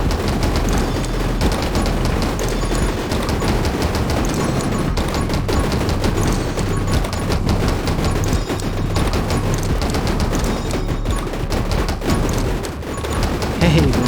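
Rapid continuous gunfire from the game 20 Minutes Till Dawn, dense bursts of shots running the whole time alongside game effects, with a voice talking over it.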